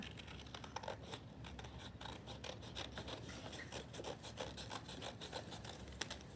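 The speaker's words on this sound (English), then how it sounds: "And so then we're just going to cut it out." Scissors snipping through paper while cutting out a paper bird craft, producing a steady run of quick, close rasping cuts that continue without pause and with no voices.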